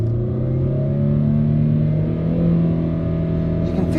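A car engine revs steadily up close, a deep droning rumble with a slightly uneven, stumbling pulse underneath; no talking.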